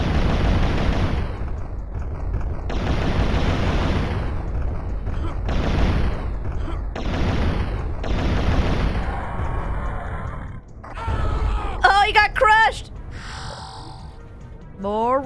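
Rockets fire and explode in the video game Turok. A series of loud, heavy blasts comes in separate bursts with short gaps between them, followed by shrill, chirping cries near the end.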